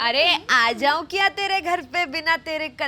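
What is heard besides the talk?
None of the usual background noises is heard.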